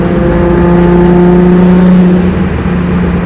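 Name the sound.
Nissan Skyline R33 GTST with GTX3076 turbo accelerating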